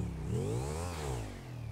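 A motorcycle engine in GTA V revs up and back down in one smooth, continuous climb and fall, loud and close, with no voices over it.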